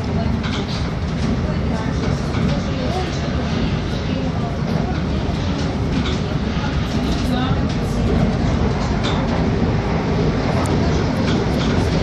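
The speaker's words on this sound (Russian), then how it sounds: "Вот такой вот тут у нас поезд, там сидит машинист." A loud, continuous rumble of a moving train with steady rattling, heard from close range throughout.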